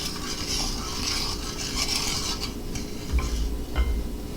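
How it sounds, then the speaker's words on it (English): A spoon stirs a cup of sugar into water in a saucepan, with soft scraping and light clinks against the pan under a steady background hum. "you stir that together until it's mixed all together."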